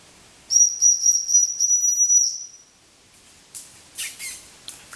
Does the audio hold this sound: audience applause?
no